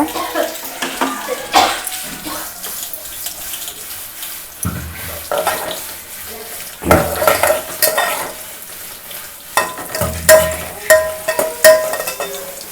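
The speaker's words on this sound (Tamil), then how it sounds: "பூண்டு நல்லா வதங்கிட்டு பாருங்க இந்த கலர் சேஞ்ச் ஆகிற வரைக்கும் நல்லா வதங்கணும் சிம்லே வச்சு வதக்குங்க" Garlic sautéing on low heat in a pan for egg kulambu, soft bubbling sizzle with repeated clattering stirs and scrapes of a spoon, close and uneven, no talking.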